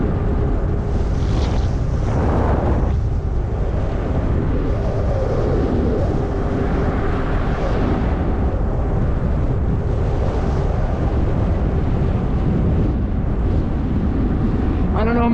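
Steady, heavy wind buffeting the microphone while riding a 20-inch Zota Zephyr fat tire e-bike through a neighborhood, a continuous low roar with no pauses.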